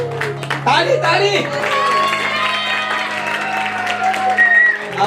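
Church congregation clapping together at a Christmas celebration during a birthday cake cutting, steady crowd applause with cheers and voices mixed in, fairly loud and continuous throughout.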